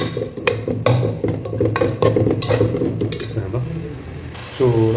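Coriander and mint sauté in an oily pan for biryani, a steady crackling sizzle broken by scraping stirs and spoon clinks against the metal, close and fairly loud, with a brief soft voice near the end.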